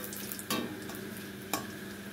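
Dry red chillies, cumin seeds and a bay leaf fry in hot oil with a soft, steady sizzle, broken by two brief, sharp stirring clatters, close by and fairly quiet.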